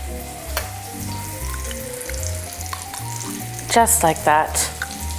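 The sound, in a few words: veal frying and being stirred in a pan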